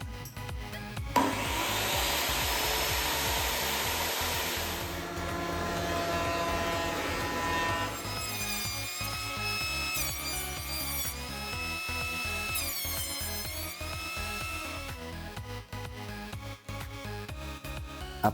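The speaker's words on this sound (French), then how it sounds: "je peux donc, sur la machine ici derrière moi, la scie sous table, le déligner, c'est-à-dire couper des tranches de 300 mm" Table saw ripping wooden boards into 300 mm wide strips: a loud, steady whine of the blade biting wood for several seconds, then shifting to a lighter, tonal run-down with whistling overtones until the end.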